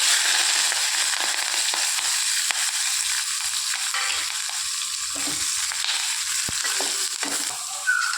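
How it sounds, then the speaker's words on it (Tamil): Mustard seeds, onion, green chili and curry leaves frying in hot oil as a tempering for sambar: a loud, steady close-up sizzle with scattered crackles and pops throughout, no voices. "கடுகு போட்டிருக்கிறேன் எண்ணெய் ஊற்றி வெங்காயம் பச்சை மிளகா கருவேப்பில் போட்டுக்கலாம்"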